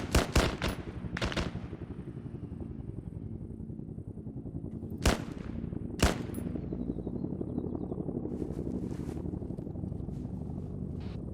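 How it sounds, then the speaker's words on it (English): Enemy gunfire in a military video game: a few sharp close shots, then a long stretch of steady rumbling fire with scattered louder cracks and distant bursts, no talk over it. "Oh, now they're shooting us. Yep, return fire."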